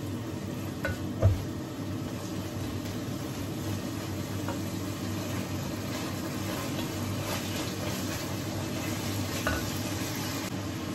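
Food simmers in a pan, a faint, steady bubbling and sizzle with a soft stir or utensil knock near the start, no voices over it.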